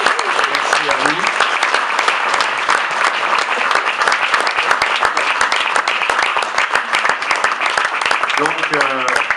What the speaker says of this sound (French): On peut tous les applaudir, les 5, les 9.